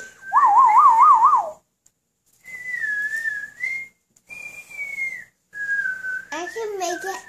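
A person whistles: first a fast trilling warble, then several steady held notes, ending with quick swooping tones.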